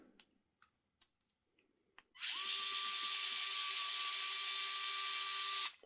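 A power tool whirs at high speed, backing screws out of an Ascent 18 RC crawler: a few light clicks and taps, then a loud, steady, close motor whine for about three and a half seconds before stopping.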